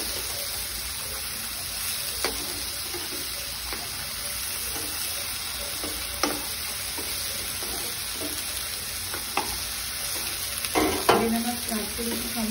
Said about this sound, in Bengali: আবারও একবার নেড়ে দেবো বড়াগুলো, একটু ঠিক করে দিচ্ছি।